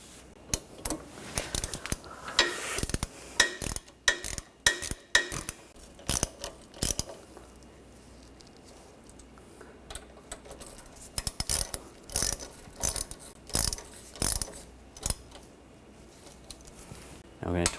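Brake caliper bolts on a 2013-2019 Ford Escape are tightened with a ratchet, making rapid clicking bursts and metallic clinks close by. They come in repeated runs with short pauses.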